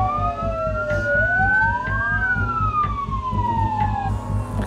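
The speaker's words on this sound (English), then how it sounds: "This is the 15-second siren." A loud 15-second warning siren before a tower demolition wails, sweeping up and down in pitch continuously, over a low, pulsing engine rumble.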